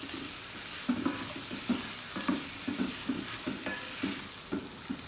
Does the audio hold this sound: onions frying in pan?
yes